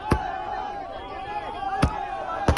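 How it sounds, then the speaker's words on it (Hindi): Fireworks go off in Karnal during a farmers' celebration, three sharp cracking bangs at irregular intervals over a continuous murmur of voices and crowd noise. "करनाल में जमकर आतिशबाजी की जा रही है।"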